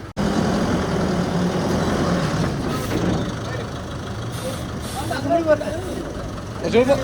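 A truck or similar heavy vehicle rumbles steadily past at a brick-making site in Valanchery where soil is mixed with cement and pressed into bricks, its engine noise loud and continuous, with a brief air-brake hiss and voices near the end.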